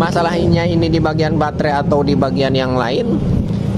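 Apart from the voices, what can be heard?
No everyday noise stands out behind the speech.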